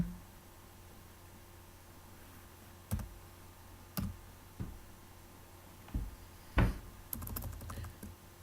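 Computer keyboard keys clack in scattered single strokes and a brief cluster, close and fairly crisp against a quiet room hum, with no one speaking.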